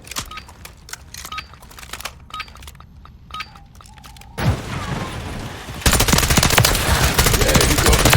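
Automatic weapons fire in a Call of Duty match on the Shipment map, scattered sharp cracks and bursts at first, then a dense, loud wall of continuous gunfire and explosions.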